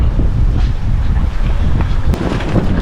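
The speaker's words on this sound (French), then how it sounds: "C'est juste un bon coup de vent." Loud, buffeting wind roars against the microphone in heavy rumbling gusts, close and continuous, with no voices.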